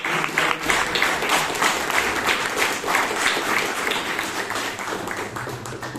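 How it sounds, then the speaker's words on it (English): Steady applause from an audience at a Toastmasters club meeting in Bangalore, many hands clapping loudly and continuously for about six seconds, easing slightly toward the end with no talk over it. "So with a big round of applause,"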